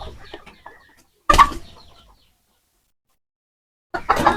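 Chickens suffering from a cold cluck in short, separate bursts close by, with stretches of silence between them and a few faint murmurs at the start.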